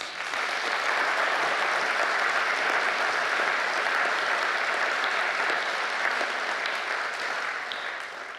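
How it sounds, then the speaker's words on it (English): An audience applauds at the Global Gala for Rhinos in London, dense, even clapping that holds loud and steady for several seconds before easing slightly at the end. "they deserve a big round of applause"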